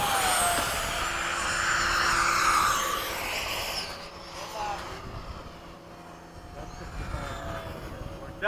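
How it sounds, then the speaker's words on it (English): A Freewing 90mm Yak-130 RC jet sweeps past with a turbine-like whooshing exhaust, loud at first with a falling pitch, then fading into the distance over outdoor background noise. "The exhaust sounds just like a turbine."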